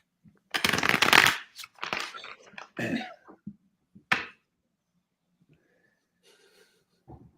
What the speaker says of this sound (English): let me shuffle real fast